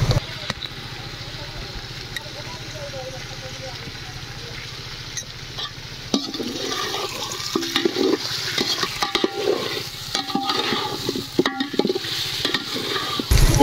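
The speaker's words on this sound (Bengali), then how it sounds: "আমরা চিকেনগুলো ভালো করে কষিয়ে নিব" Chicken pieces are sautéed in a pan for biryani, with a low, steady fry that turns louder partway through and is joined by clattering stirring and scraping against the pan.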